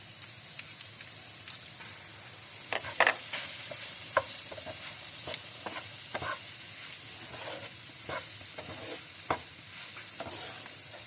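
Toasted egusi fries in a pot while salt-washed iru is stirred in. A soft sizzle runs throughout, with scattered scraping clicks from the spoon at a moderate distance, and nobody speaks.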